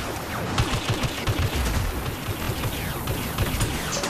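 Rapid blaster gunfire from a Star Wars Battlefront beta match, dense overlapping bursts of shots with mechanical clatter filling the whole stretch at steady loudness.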